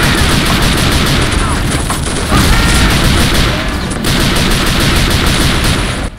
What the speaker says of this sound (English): We gotta clear out those machine guns.